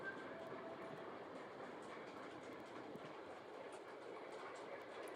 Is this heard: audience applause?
no